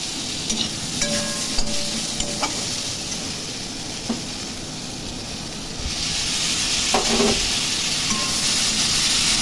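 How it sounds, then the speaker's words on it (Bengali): Spices being stirred and fried in a pan for a Rui fish curry with potato and cauliflower, a constant close sizzle with occasional clinks of a spatula against the pan, swelling louder in the second half, with no talking. "নাড়াচাড়া করে নিয়ে এর মধ্যে মশলা দিয়ে দিলাম"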